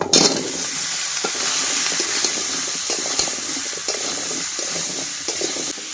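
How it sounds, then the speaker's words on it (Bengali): Pumpkin and potato pieces frying in hot oil in a wok with panch phoron and browned chopped onion, a steady, loud, close sizzle with occasional stirring scrapes throughout. "এবার কেটে রাখা কুমড়ো আলুটা দিয়ে দেবো।"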